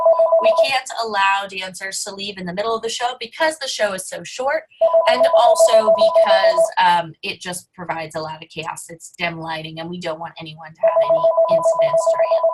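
A mobile phone ringtone rings loudly in repeating bursts, starting, returning mid-way and again at the end, sounding alongside a woman explaining rules for a kindergarten dance recital.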